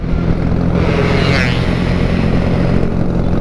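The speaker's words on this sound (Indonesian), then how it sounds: "Wih, motor-motor gini nih, vintage abis." A vintage motorcycle with twin exhausts revs loudly nearby at a Jakarta Sunday-morning ride gathering, a continuous rough engine roar with a brief rise in pitch partway through, alongside steady background traffic noise.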